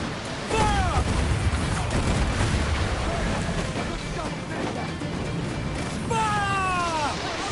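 Ship cannons firing in Assassin's Creed 4 Black Flag naval combat: heavy booming blasts and crashes in a dense barrage, with shouted voices over the gunfire and whistling streaks near the start and end.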